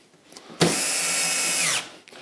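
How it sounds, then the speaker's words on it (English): Festool cordless drill fitted with a screwdriver bit, driving a screw in one continuous loud whir of about 1.2 seconds that winds down as the screw seats, with no talking. "put in your screwdriver bit, and then away you go"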